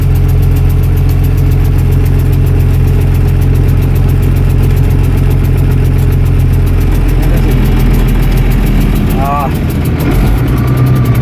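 A 1978 International Harvester 1586 tractor engine idles steadily after a cold start, a loud, continuous low rumble with rattling, shifting slightly in tone partway through, with a brief chirp and voice-like sound near the end.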